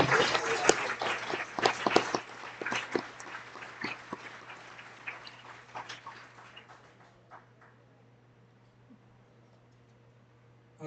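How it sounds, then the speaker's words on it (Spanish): A church congregation at a Sunday school service claps, a burst of loud, scattered hand claps that thins out and fades to near silence over several seconds. "Den un aplauso al que vive por eso."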